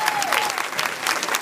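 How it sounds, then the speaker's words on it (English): A crowd at a women's bowling tournament gathering applauds in a brief, busy burst of many hands clapping, with a faint tone and some murmuring voices underneath. "So you can extend a round of applause for Sharon and Pat as well."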